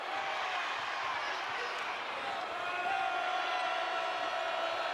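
A crowd at a men's basketball Apple Cup game between UW and Washington State at Beasley arena cheers in a sustained roar that swells slightly, with an announcer talking over it.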